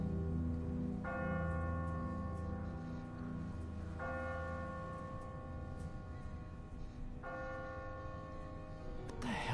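A church bell tolls in a bell tower in The Walking Dead game, three slow resonant strikes spaced a few seconds apart, each ringing on over a steady low rumble of background noise.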